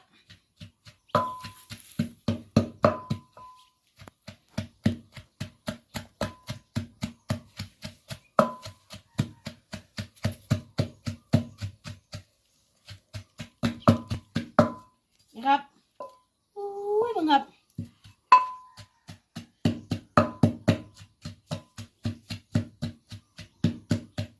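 Unripe banana slices pounded in a mortar, giving steady rhythmic thuds in bursts with short pauses; brief other kitchen noises break in near the middle.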